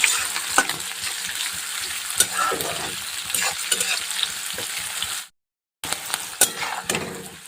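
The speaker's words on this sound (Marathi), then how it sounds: "दोन मिनटं अगोदर हिरव्या मिरच्या छान अशा तळून घेऊ तेलामध्ये" Green chillies fry in hot oil in a pan for kande pohe, making a continuous close sizzle with scattered taps and scrapes of a stirring utensil, broken by a brief cut to silence near the end.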